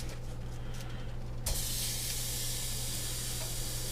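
Meatballs hit an ungreased pan and a loud, steady sizzle starts abruptly and keeps hissing close up without a break, with a low hum underneath.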